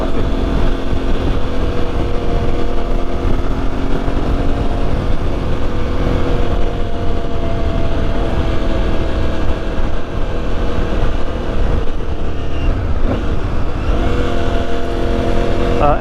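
An Aprilia Tuareg 660 motorcycle on the move: a steady engine drone with constant wind rush that holds evenly throughout, with slight shifts in pitch and no talking.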